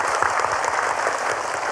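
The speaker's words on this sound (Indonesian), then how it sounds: "Boleh tepuk tangan." A studio audience at an Indonesian religious TV talk show claps steadily, a dense even wash of applause with no voices over it.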